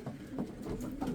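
Pigeons coo softly in a loft, low throaty rolling calls repeating in short bursts, fairly quiet and close, with faint shuffling behind them.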